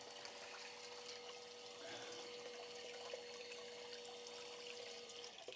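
Water runs steadily through a water slide toy fitted with a flow-control valve, a constant close gushing and trickling with a faint steady hum beneath, no voices.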